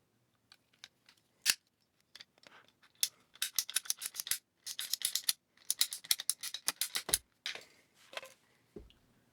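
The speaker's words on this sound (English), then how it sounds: "the next step is going to be to cut your hose" A furnace drain hose is cut with scissors-like snips, a sparse few clicks at first, then dense bursts of sharp crunching cuts, close and fairly quiet with no talk.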